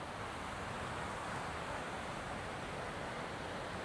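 Surf on a busy beach in Da Nang, Vietnam, a steady broadband wash of waves and wind with no distinct breaks, continuous throughout.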